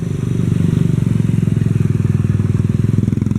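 Motorcycles roll in steadily for motocross races at the Manggahan Festival on Guimaras Island, a close, continuous engine drone with a rapid pulsing rhythm and no talk.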